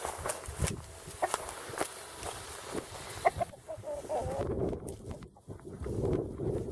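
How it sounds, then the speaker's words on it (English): A chicken clucks in a garden, with soft scattered clucks heard alongside footsteps, rustling and shuffling nearby as the bird is chased off. "There's another chicken in the garden"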